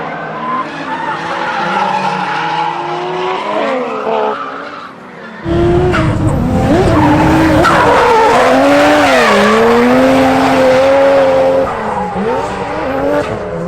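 A Toyota Mark II JZX100 sedan, front-engine and rear-wheel drive, drifts with long, loud tire squeals and skidding over a revving engine, growing sharply louder midway and sustained near the microphone.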